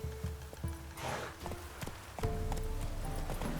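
Horse hooves clip-clopping in The Witcher 3: Wild Hunt, a steady walking rhythm of hoof strikes over a low ambient game soundscape, moderately close, with no talking.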